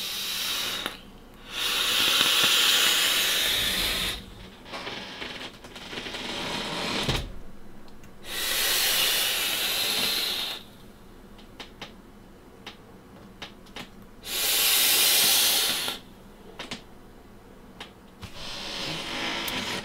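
Vaping on a two-post RDA at 90 watts on a 0.52 ohm coil with top and bottom airflow wide open: three long, loud airy hisses of drawn air, separated by quieter stretches with small clicks.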